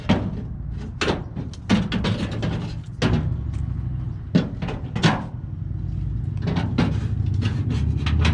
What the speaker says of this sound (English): slide this thing back in here.